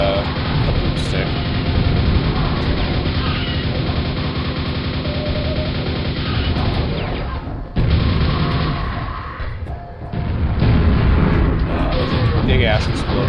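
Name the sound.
explosion in a video game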